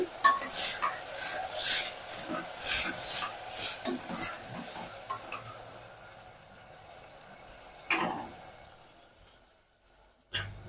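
Brinjal and tomato pieces for stuffed eggplant curry are stirred in a pan with rhythmic scraping strokes over a soft sizzle, the stirring fading out partway before one short knock.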